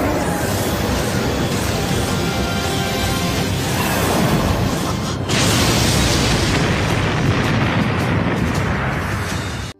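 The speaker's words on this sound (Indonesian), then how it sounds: "dampak dari serangan itu dapat memicu ledakan yang sangat kuat bak bom nuklir" A powerful explosion in an animated donghua battle roars as a dense, continuous blast of noise that stays loud for several seconds, surges again midway, then cuts off abruptly.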